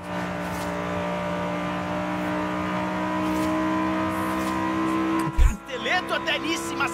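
A Lamborghini Huracan drives in the racing game Forza Horizon 5, its engine holding a loud, steady drone. Near the end comes a sudden thump, followed by uneven, fluctuating engine and tire noise.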